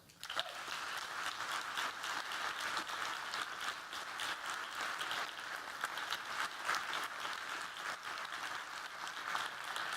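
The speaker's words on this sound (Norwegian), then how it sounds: "Og det synes jeg fortjener en stor applaus." A large audience applauds at the unveiling of a student-built 2017 race car, a thick, continuous roar of clapping that holds steady from start to finish.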